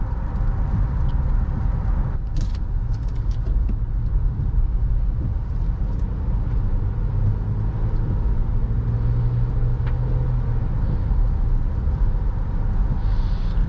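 A steady low rumble of road noise fills the cabin of a 2022 Honda Pilot Special Edition on the move, kept fairly quiet and even throughout, with a few faint ticks and rattles.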